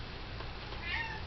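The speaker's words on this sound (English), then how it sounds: "That's my cat." A pet cat named Haruki gives a single short meow, faint and brief, over a quiet room background.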